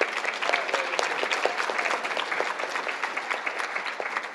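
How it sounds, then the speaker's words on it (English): A crowd at a prisoner reentry nonprofit event applauds its board chair, with dense, steady clapping filling the room throughout. "I think that we should give Wendy a round of applause"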